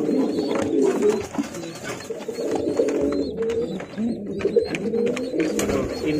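Domestic pigeons coo steadily in a loft, several birds overlapping in low, throaty, continuous rolling calls with faint rustling, fairly close and loud.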